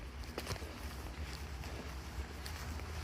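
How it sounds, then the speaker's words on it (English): Distant car traffic on the Blue Ridge Parkway carries into a mountain trail as a steady low rumble and hiss, continuous and far off, with faint wind noise and no voices. "All that noise you hear in nature is this road. Now the cars on it."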